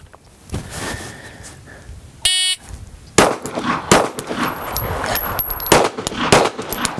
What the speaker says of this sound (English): next stage of fire is going to be shot two to the body with the gun hand, switch hands, and then two to the body with the support hand